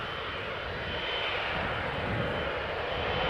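A United Airlines jet airliner, Flight 21 bound for Houston, departs Amsterdam Schiphol Airport with a loud, steady, broadband engine roar that swells slightly, heard alone.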